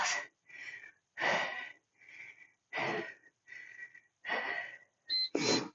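Heavy, forceful breaths during a workout come in a regular rhythm of about seven or eight loud, close, wheezy exhales separated by short quiet gaps.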